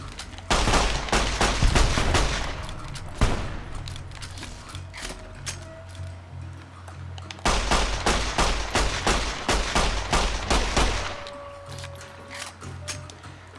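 9mm pistol shots in Fallout: New Vegas, loud close gunfire repeating in rapid bursts across the stretch with short pauses and mechanical clicks between volleys.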